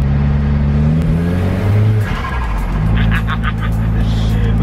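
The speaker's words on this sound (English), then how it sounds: "Love the flutter on this thing" A pickup truck's 2.3 litre Volvo engine idles and revs with a loud, uneven flutter close to the microphone, its pulsing note rising and falling across the clip.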